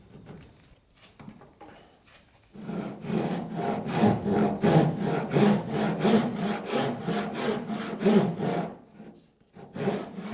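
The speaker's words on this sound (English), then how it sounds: "I'm going to hold the blade tightly with my fingers up against the end of the other piece and, go back and forth, cut it" A ship saw drawn back and forth by hand through the wooden caps of a V-bottom skiff while scarfing them, a steady rasping rhythm of even strokes, close and loud, after a few lighter starting strokes.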